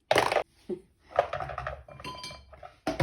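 A dish of soaking sticky rice clinks and clatters as it is set into a microwave for steaming, several sharp, close porcelain knocks and rattles in short bursts with quiet pauses between.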